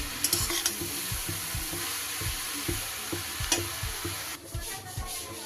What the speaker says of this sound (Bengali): ভালো করে একবার নাড়িয়ে আবার আমি ঢেকে দেব।